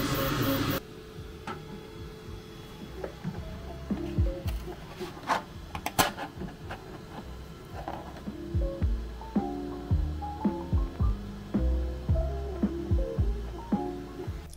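Anycubic 3D printer with ACE Pro filament backup resuming a print: a faint hum with rhythmic stepper-motor tones and soft ticks, alone.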